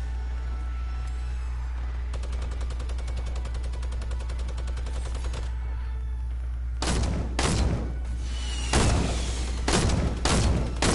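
Video game gunfire: a fast, even rattle of distant automatic shots, then several loud, close bursts cracking over a low, constant rumble, with no talking.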